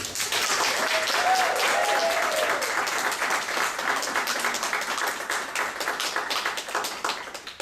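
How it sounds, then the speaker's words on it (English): A large audience bursts into sustained, dense applause for a speaker at a soft-skills talk, loud and steady throughout, fading slightly toward the end, with faint voices beneath. "Please join me with a great round of applause for our first qualifying speaker"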